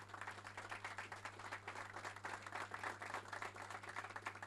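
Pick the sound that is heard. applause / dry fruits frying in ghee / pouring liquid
applause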